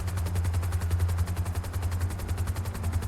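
Police gunfire in Grand Theft Auto, a rapid continuous rattle of shots with no pauses, steady and fairly loud, with no talking.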